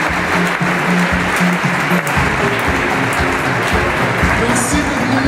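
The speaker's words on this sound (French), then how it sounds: "Un tonnerre d'applaudissements pour Lionel." Audience applause at a La Manif pour tous rally greets the speaker Lionel Lombroso: dense, loud, sustained clapping that runs steadily throughout, with a low droning undertone beneath it.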